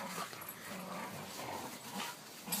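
Puppy being chased in a corner, whimpering and yipping in short high cries, close and moderately loud, with no talk during these few seconds.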